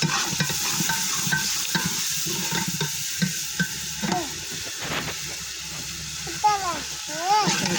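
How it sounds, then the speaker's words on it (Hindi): Chopped onions and green chilies fry in a pan for spiced moong dal, giving a continuous hiss and sizzle with repeated stirring scrapes while someone speaks over the cooking. "अच्छी तरह भून लेंगे।"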